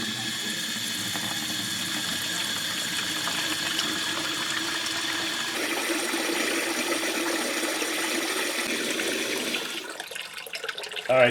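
Water drains from a 1937 Chrysler engine into a bucket in a steady, close rushing stream, shifting in tone partway through and ending with splashing and a knock.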